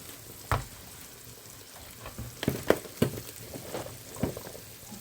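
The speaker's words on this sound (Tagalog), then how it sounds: "At igisa natin ng konti dito yung ating carrots." Carrots sauté in a hot pan, a steady low sizzle broken by several sharp clacks and scrapes of a utensil stirring, close and fairly quiet, with no talking.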